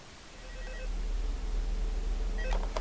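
A telephone rings in the Five Nights at Freddy's VR game, a faint repeating tone over a steady low hum, with a brighter burst near the end.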